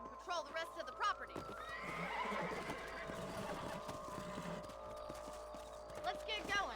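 In the video game Red Dead Redemption, a horse whinnies and its hooves clop steadily, close by, over a constant layered background hum.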